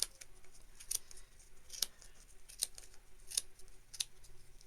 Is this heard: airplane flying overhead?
no